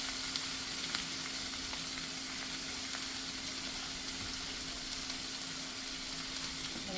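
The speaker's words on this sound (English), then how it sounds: "I'm going to keep stirring that until everything is rough and shaggy and the cheese is melting" Stamppot being stirred in a pan as cheese melts into it, with a constant close frying sizzle, faint scraping movement and a low steady hum underneath, uninterrupted and with no speech.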